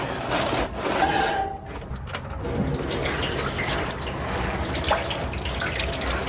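Water draining and splashing out of the oil pan of a 1953 Peterbilt truck engine left parked for 40 years, a steady close trickling and pouring with faint drips.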